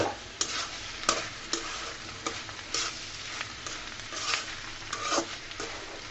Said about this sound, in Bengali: আমি আবারও নেড়ে চেড়ে দিচ্ছি